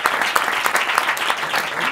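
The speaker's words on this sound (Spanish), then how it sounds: "Un aplauso, Blanca." Audience applause during a Spanish stand-up monologue show, steady dense clapping throughout with a few louder individual claps standing out.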